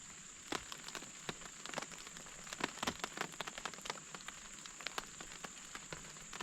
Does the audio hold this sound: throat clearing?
no